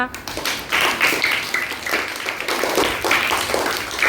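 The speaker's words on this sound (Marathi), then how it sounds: "स्वतःसाठी एकदा टाळ्या वाजवा" Schoolchildren in a rural Zilla Parishad school classroom break into dense, lively clapping that runs steadily throughout, close and loud, with scattered voices mixed in.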